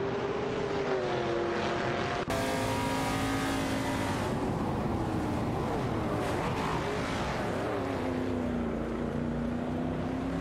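Simulated race cars, a Holden Torana and a Chevrolet Corvette C3, roar through a racing video game with sustained engine drones rising and falling in pitch. Several engines overlap loudly and continuously, with a sharp shift in tone partway through.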